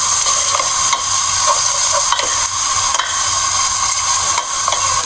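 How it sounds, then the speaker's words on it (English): Whole and ground spices such as cumin, cloves, cardamom and cinnamon stirred in a hot pot for pilau, a loud continuous sizzle with regular scraping strokes of the spoon, close and without speech. "We are stirring together so that they can mix well."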